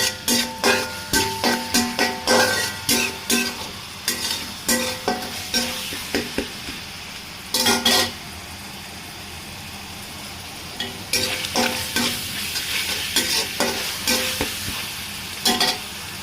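Beef liver fries with garlic paste in a pan as a utensil stirs and scrapes repeatedly, rhythmic clanks over a steady sizzle, with a few quieter pauses.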